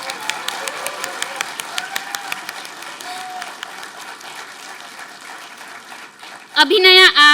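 A graduation certificate ceremony audience claps steadily in dense, continuous applause, with sharper individual claps standing out near the front, before a brief burst of louder voices or cheering at the very end.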